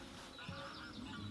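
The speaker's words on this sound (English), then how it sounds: "I don't know if you can hear that, but the bird life on here is insane." Wild geese honking among other bird calls outdoors at a lake, faint and distant in a steady ambient wash with no talk.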